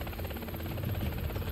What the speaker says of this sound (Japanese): なんかヘリの音が聞こえる。